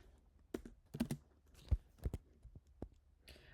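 Quiet keystrokes on a computer keyboard while typing Python code, a short irregular run of soft clicks with pauses, no voices.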